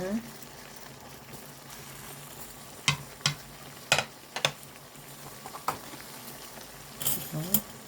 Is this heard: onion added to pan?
yes